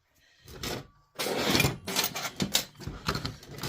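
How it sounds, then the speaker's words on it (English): Hands mash casting sand into a mold, giving close, gritty rubbing and scrunching in irregular bursts with short pauses. "So I'm just kind of mashing the sand in here to get the outline of the cat head."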